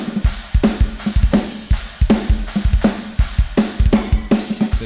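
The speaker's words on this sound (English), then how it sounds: "If you're on the hunt for a free drum VST that sounds something like this" Drum kit played through a free drum VST plugin, a steady groove of punchy kick and snare hits under washy cymbals, loud and dry with no voices.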